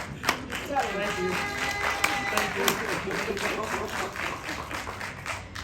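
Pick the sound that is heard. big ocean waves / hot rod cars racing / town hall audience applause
town hall audience applause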